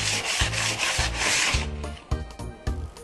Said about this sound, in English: you want to take sandpaper and sand all the edges and make sure there's no splinters